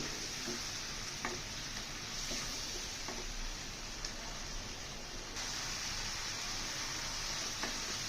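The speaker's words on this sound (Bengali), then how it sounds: "চিংড়ি মাছটাকে আমি দিয়ে মশলার সাথে একটু কষিয়ে নেব" Large prawns sizzle as they fry with spice paste in a pan, a soft, even crackle running throughout with faint occasional ticks and stirring, no talking.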